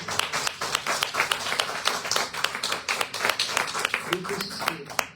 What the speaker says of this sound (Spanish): ¿Pueden darle otro fuerte aplauso al Señor?